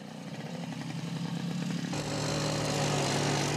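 A farmer's motorcycle engine runs steadily close by on an Australian farm, its putter rising and growing louder partway through as it revs up.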